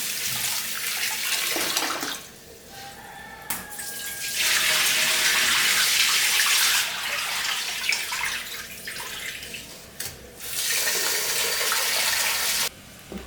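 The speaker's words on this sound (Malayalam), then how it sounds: "നമുക്ക് ഈ അരി നന്നായിട്ട് കഴുകിയെടുക്കാം. നന്നായിട്ട് തന്നെ വെള്ളം ഒഴിച്ചിട്ട് കഴുകിയെടുക്കാം." Rice is rinsed with poured water in a pot, bursts of splashing and pouring water alternating with brief quieter pauses, close and fairly loud, no talking.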